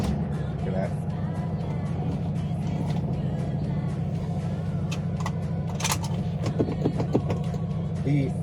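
An old rusty diesel Mercedes-Benz car idles with a steady low engine rumble, heard close and continuous, with occasional clunks and rattles. A person speaks over the running engine.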